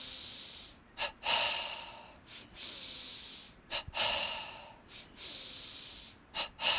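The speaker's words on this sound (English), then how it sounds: "final 10 breaths, double breathing in the chest only" Rapid, forceful double breaths drawn into the chest during a pranayama breathing exercise, each a quick two-part inhale then sharp exhale, repeating in a steady rhythm with brief pauses, close and fairly soft.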